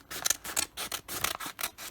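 Scissors snip through contact paper backed with a sticker sheet, several quick crisp cuts in a steady rhythm, close and fairly loud with nothing else heard.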